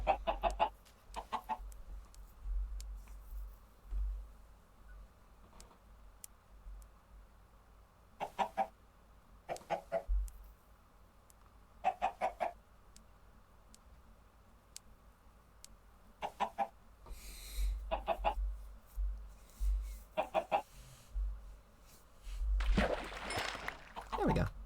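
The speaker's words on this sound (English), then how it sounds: "Oh, there's a third chicken." Chickens in a Minecraft fossils and archaeology modpack give repeated short clucks in scattered bursts, moderately close, over a low background hum with a louder burst near the end.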